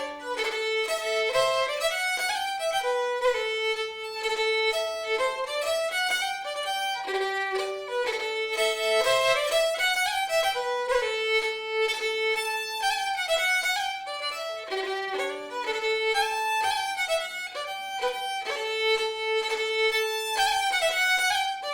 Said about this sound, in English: this tune is not written with dots, but it would be played with them